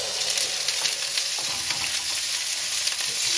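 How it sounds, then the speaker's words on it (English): Shallots fry in a hot wok with a loud, dense and steady hiss of sizzling oil, heard close and alone with no voices. "first thing that goes into the wok is the shallots"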